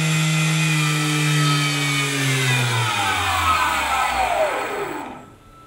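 Small electric motor on a homemade RC sonar boat, run at full throttle on a 12.8-volt battery, a loud close whine that sweeps steadily downward in pitch as it spins down, then cuts to silence at the end.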